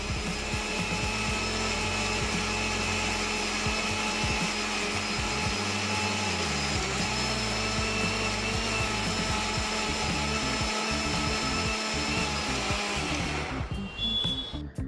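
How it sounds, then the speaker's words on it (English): Philips HL7505 500W mixer grinder whirring steadily as it grinds coconut chutney, a loud, continuous motor drone close by that runs without a break and cuts off abruptly at the very end. "For grinding, firstly we'll pulse it for 3 times, and after that we'll grind at speed 1 for 30 seconds"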